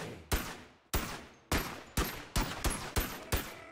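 Seven sharp gunshots ring out in the VR physics game Boneworks, fired at uneven intervals that quicken toward the end, each crisp and close with a short decaying tail and no talking.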